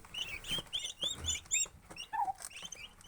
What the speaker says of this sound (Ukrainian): Ось такі індичата.